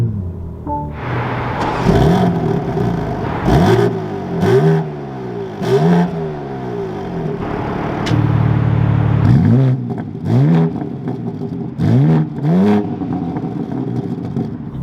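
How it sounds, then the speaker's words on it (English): A 2024 BMW M3 Competition fires up with a sharp starter catch, then settles into a loud, close idle broken by a string of rising revs and falling blips, each swelling and dropping back in turn with no talk over it. "Let's fire this back up though. Take a listen to this M3 comp."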